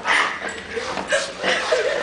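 Small dogs dressed in Halloween costumes, one as a devil, yip and bark in short bursts under excited voices of people talking nearby.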